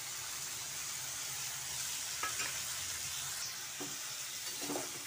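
Paneer and boiled chickpeas fry gently in a pan for chole paneer, giving a soft, steady sizzling hiss with a few light taps and scrapes of stirring, moderately quiet and close, without speech.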